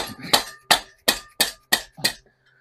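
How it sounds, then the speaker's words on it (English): Six sharp metallic hammer blows land at an even pace on a seized VW Beetle 1600 dual-port engine, close and loud, each ringing briefly before the next, with no talking. "I don't want to hammer that too hard with the studs in."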